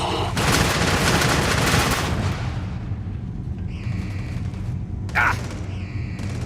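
Sustained suppressive gunfire in a video game, a loud continuous roar of shots for about two seconds, then lingering rumble with chiming game effects and a short sharp burst near the end.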